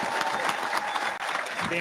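Applause from an assembled crowd at a Boston Fire Department recruit graduation ceremony, a steady dense patter of clapping for about two seconds with faint voices mixed in.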